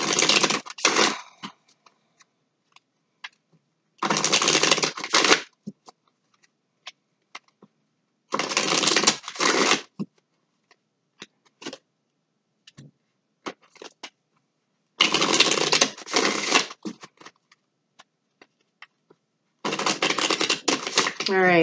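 Tarot cards being shuffled and drawn come in several loud, close bursts of riffling and rustling that last a second or two each. Quiet gaps with scattered small clicks and taps separate the bursts.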